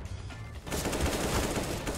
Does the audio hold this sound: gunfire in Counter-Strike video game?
yes